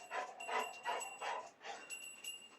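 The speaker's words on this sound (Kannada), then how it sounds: "ನಮ್ದೊಂದು ನಾಯಿ ಐತೆ ಗೈಸ್," A dog gives a series of about six short, fairly faint barks and yips in a regular rhythm, heard alone at a moderate distance.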